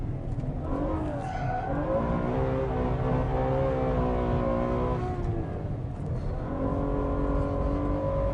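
Race car on the main straight at Portimao circuit accelerating hard, a loud sustained engine roar climbing in pitch through the gears with a brief dip at a shift, heard from inside the car.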